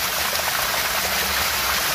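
Water gushing out of an opened drain on a biofloc tilapia tank, a steady, loud, close rushing flow that continues without pause.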